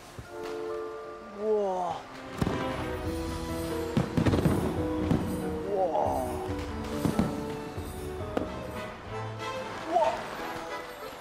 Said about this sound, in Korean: 불꽃놀이 한다